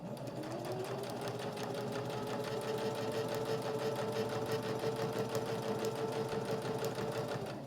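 A domestic sewing machine runs a narrow stitch line across the folded edge of a fabric pocket on a business card holder, a continuous close whirring hum with rapid needle ticks, steady throughout with no talking.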